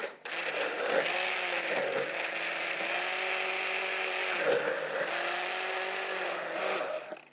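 A hand blender runs steadily for several seconds, its motor whirring loudly and dipping briefly in pitch as it churns juice with added water.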